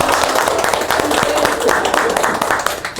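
A group applauds during a makeup training session, with dense, loud clapping held steady for about three seconds while voices seem to mix in underneath.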